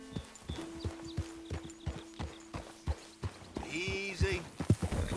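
Hooves clip-clop at a steady trot as a horse is ridden in Red Dead Redemption 2, with a close whinny and voice sounds joining near the end.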